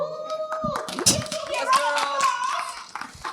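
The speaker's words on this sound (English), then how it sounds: "So you can give a little clap, like." A small audience gives a short round of clapping at a community event, with scattered hand claps under a host's ongoing talk.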